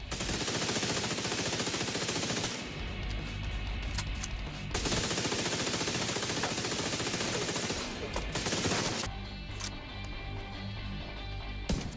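Sustained automatic gunfire from a weapon build in the video game The Division 2, loud and continuous with rapid bursts and brief pauses, layered over game sound effects.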